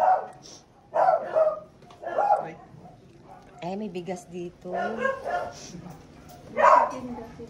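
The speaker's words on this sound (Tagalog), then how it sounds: "Ay, may aso pa." A dog barks and yips a few times close by, mixed in with people talking.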